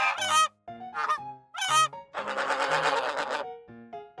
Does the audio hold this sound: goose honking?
yes